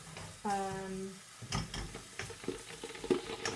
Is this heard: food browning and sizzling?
yes